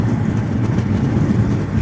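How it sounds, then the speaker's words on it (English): A CN freight train passes close by on the tracks in Flint, Michigan, giving a steady, loud low rumble with no pause across the short stretch. "That's a big train."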